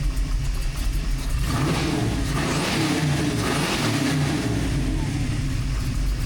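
A carbureted Chevrolet Nova engine revs up loudly nearby, the pitch climbing and swelling before settling back to a steady, rough drone.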